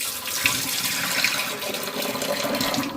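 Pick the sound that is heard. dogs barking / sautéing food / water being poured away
water being poured away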